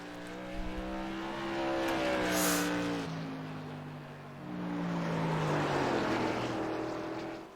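A Whelen Modified race car at New Smyrna roars around the track on a qualifying lap, engine pitch climbing and falling through gear changes, heard loud and close from an onboard view, with no talking.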